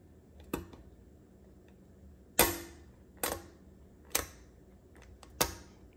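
Hand metal snips cutting sheet steel for chassis fabrication, five crisp metallic snaps spaced roughly a second apart, close and fairly loud against a quiet background, with no voices.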